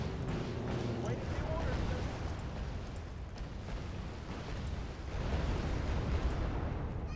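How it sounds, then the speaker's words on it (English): Bombs from a bomber exploding in the video game Wargame Red Dragon, heard as a sustained roar of blasts and rumble throughout, with the loudness building again toward the end. "Bombs away"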